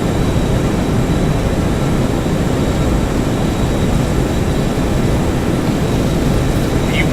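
Steady, loud jet engine roar of a Boeing 737-200 on its takeoff roll in the X-Plane 11 flight simulator, a dense constant rumble with a faint high whine throughout.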